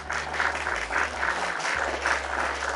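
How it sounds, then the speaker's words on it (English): A burst of applause plays during a TikTok live stream, an even, continuous patter of clapping at moderate loudness over a low steady hum, with no voices. "Let me get you a round of applause, bro"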